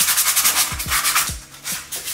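Sandpaper rubs rhythmically across a Porsche 911 996 rear brake part, repeated close scratchy strokes with a few low knocks in between.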